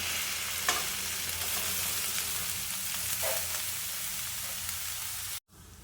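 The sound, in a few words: grated carrots frying in ghee in a pan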